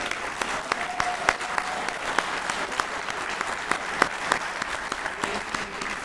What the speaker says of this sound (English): That itself deserves a round of applause.